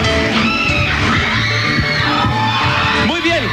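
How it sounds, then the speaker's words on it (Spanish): Studio audience applauding and cheering for a doctor guest on a Peruvian entertainment show, a loud, dense wash of clapping with yells and whoops over music, steady throughout. "un fuerte aplauso para el doctor Felipe"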